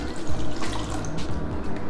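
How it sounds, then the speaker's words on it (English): Water poured into a cooking pot of peas for rice and peas, a loud close splashing, gurgling stream that runs continuously without talk. "Add a little bit of water"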